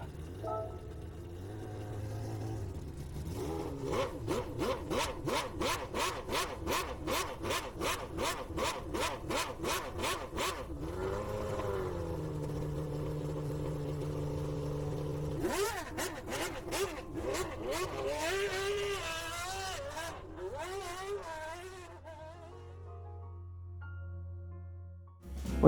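Racing car engine from Gran Turismo 7, a rapid stuttering idle and repeated revs rising and falling in pitch, loud and close with no talk.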